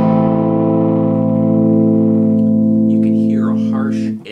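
An Aria Pro RS850 electric guitar played through an overdrive pedal rings out as one loud, sustained distorted chord that slowly decays, with a brief scratchy fluttering noise near the end.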